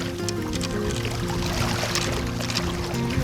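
A home-built Hebridean wind vane pendulum cuts through the sea while sailing, giving a continuous close rush of gurgling, sloshing water with no pauses.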